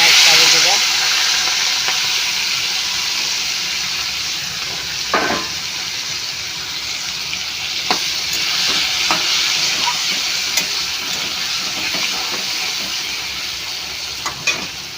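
Fish frying in hot oil with turmeric and salt, a continuous close sizzle with occasional sharp spatters and stirring clicks, loud and steady from start to finish.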